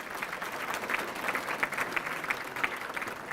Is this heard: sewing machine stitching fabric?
no